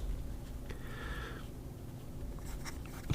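A Wingsung 630 fountain pen with a broad steel No. 8 nib ground to a stub writes on paper, making a faint, close, scratchy glide in short strokes over quiet room tone.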